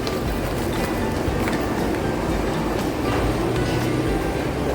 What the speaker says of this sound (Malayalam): ആൻമോക്കിയോ മെട്രോ സ്റ്റേഷനാണ്.